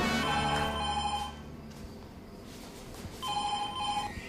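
A telephone rings in two bursts separated by a short pause, a bright, repeating electronic trill heard fairly close.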